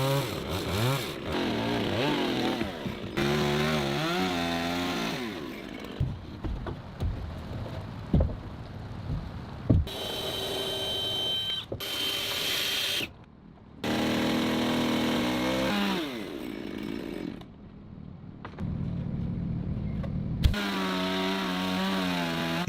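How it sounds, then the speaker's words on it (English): A chainsaw cuts and levels the wooden edge beams of a handbuilt log house roof, revving up and down in repeated loud bursts with brief idle dips between cuts. "The edge beams of the roof are being cut and leveled with a chainsaw."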